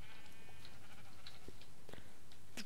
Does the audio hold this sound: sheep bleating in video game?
yes